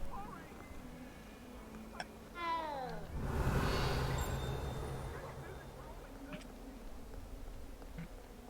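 A cat in Hogwarts Legacy gives a short rising meow, faint and close, amid quiet game ambience with a brief whooshing sweep and soft background noise, a player talking around it.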